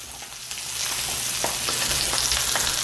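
Pork browns in a frying pan for a broccoli and pork stir-fry, giving a steady close sizzle with small pops and crackles, no voices.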